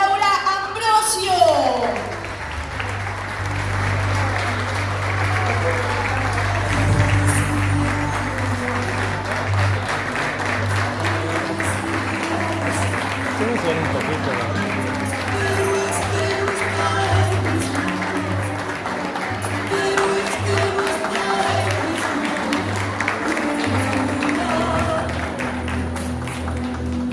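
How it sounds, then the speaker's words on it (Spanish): A crowd gives loud, sustained applause to welcome Laura Ambrosio at a company event, dense clapping running the whole stretch while music and occasional voices sound underneath. "Fuerte el aplauso para recibir a Laura Ambrosio."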